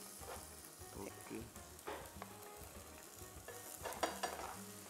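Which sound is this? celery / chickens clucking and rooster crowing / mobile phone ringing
celery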